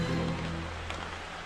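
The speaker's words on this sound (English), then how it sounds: "It's raining today, so we figured we'd hop in the car and go look around." Steady rain falling at a dispersed campsite along a road in the Adirondacks, a soft, continuous wash of drops with a low hum beneath, heard alone.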